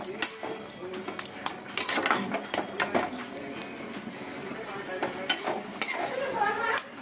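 Sour fruit cooking down to a jelly-like consistency in a pan, stirred slowly with a utensil, giving repeated scraping clinks against the metal under a running voice.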